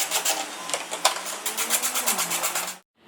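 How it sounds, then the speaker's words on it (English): A ratcheting wrench with a 13mm socket backs nuts off during a car brace bar install, giving a fast, even run of close clicking strokes that stops abruptly near the end, with no talk. "we're going to use our 13mm socket and ratcheting wrench to take these 4 bolts out"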